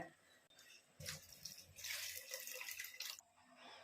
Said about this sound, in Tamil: இப்போ 3ஆவதா இருக்க கொஞ்சம் தண்ணியா இருக்கிற இந்த பால் ஊத்திடுவோங்க